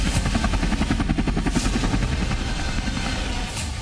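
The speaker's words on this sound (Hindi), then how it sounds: "संगम पर हेलीकॉप्टर से उतरे शूरवीर।" A helicopter lands commandos at the Sangam during a joint NSG and ATS security drill at the Mahakumbh 2025. The rotor chop is loud, close and steady, with a fast pulsing beat that holds for the whole stretch.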